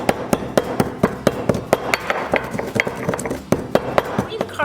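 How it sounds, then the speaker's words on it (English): Green cardamom seeds ground to powder, heard as a rapid series of sharp, close pounding knocks in an irregular rhythm. "I'm just going to grind the seed until it turns into powder."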